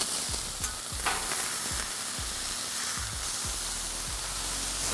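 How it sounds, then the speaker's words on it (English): Smashburger patties sizzle loudly on a hot griddle alongside tortillas, a steady dense frying hiss with repeated scraping spatula presses and taps throughout. "Let's do our smashing. Get your big spatula. You wanna smash them, try and get them to come out even with the tortilla."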